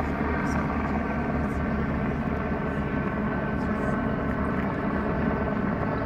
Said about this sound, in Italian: Vediamo che l'elicottero sta girando sul castello